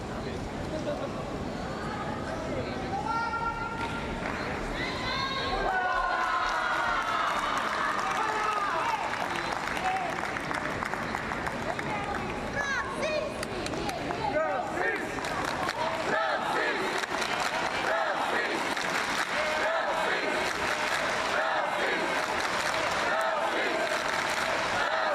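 Spectators at a Paralympic boccia match in Paris roar and applaud continuously, a dense, loud crowd swell with cheering voices that rises and stays sustained throughout.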